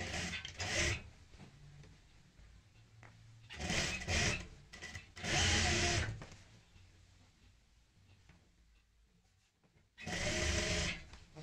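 A sewing machine stitches a folded fabric strip onto a chair cushion in short, separate bursts of whirring, with quiet handling pauses between runs.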